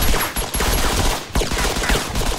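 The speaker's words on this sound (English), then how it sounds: "That guy without tags is shooting us." Rapid gunfire in the military video game ArmA III, a dense, loud burst of overlapping shots with brief gaps, close and continuous across the whole moment.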